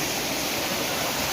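A mountain stream in Munnar rushing over rocks, a dense, continuous roar of flowing water, loud and close with no voices audible.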